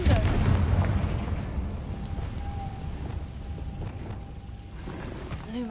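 A Confringo fire spell explodes in the Hogwarts Legacy video game, opening with a loud booming blast that rumbles and fades over several seconds, followed by a thin whine and rattling debris.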